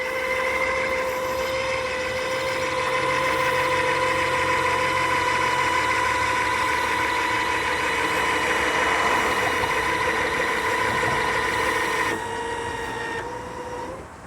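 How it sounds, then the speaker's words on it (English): Electric lift motor steadily hums while raising the top of a 2026 15.2 O.V.E. pop-up camper, a continuous whirring drone lasting around twelve seconds before cutting off. "Now, let's lift up that top."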